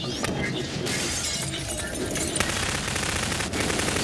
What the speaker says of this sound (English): Oh, you broke the glass.